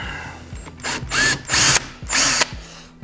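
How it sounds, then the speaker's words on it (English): Power drill backing screws out of an ATMOS Wall panel during installation, with three loud whirring bursts of about half a second each separated by short pauses and faint clicks. "Take the screws out."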